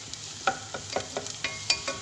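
Garlic fries in a pan as a utensil stirs it, giving a soft sizzle under regular scraping strokes that come roughly every quarter second, close and clear.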